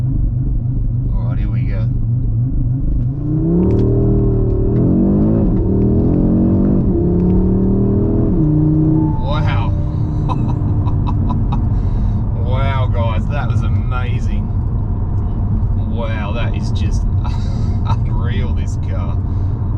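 A 2022 Audi RS3 launches hard and accelerates, its engine rumbling and rising in pitch through several quick gear changes from inside the cabin, while someone talks excitedly over the run.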